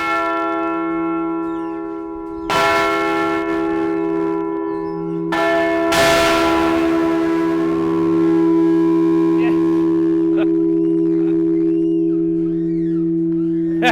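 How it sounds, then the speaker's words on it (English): The Ponte Corvo church bell in Italy is struck a few times, each loud metallic clang followed by long ringing overtones that hum and fade over a steady drone. "first Canadian to ring the Ponte Corvo bell."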